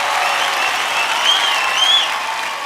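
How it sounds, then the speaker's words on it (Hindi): An audience at the IIFA awards applauds for Madhuri Dixit, dense sustained clapping from a large crowd with faint cheers and whistles rising over it. "माधुरी दीक्षित जी के लिए जोरदार तालियां"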